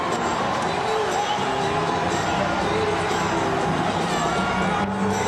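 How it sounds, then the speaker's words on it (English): A huge New Year's Eve crowd in New York cheers and roars continuously, a dense wall of voices with scattered whoops and shouts that stays loud and steady throughout. "This is the biggest New Year's Eve crowd I've ever seen in the almost 30 years I've been hanging around here."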